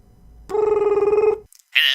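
A telephone gives one loud, close electronic warbling ring, then stops briefly, followed by a short burst of a higher tone at the end.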